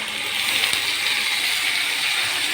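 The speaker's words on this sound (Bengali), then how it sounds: "এই যে আমি কাঁচামরিচ ব্লেন্ড করে দিচ্ছি" A kitchen blender whirs steadily while blending green chilies. The motor noise is loud, continuous and even in level, with a gritty, hissing edge and no voices.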